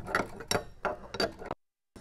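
A 7/16 inch wrench turning the bolts on a surface cleaner bar gives several close, loud ratcheting clicks in short bursts, then falls briefly silent before another click.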